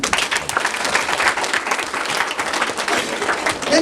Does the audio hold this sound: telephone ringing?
no